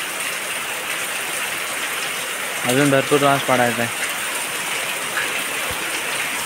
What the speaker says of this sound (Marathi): पाऊस बघा काय पडतोय